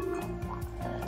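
A Picopresso portable espresso maker is hand-pumped, and espresso drips and gurgles out of it in soft, wet pulses. The sound is quiet, close and brief.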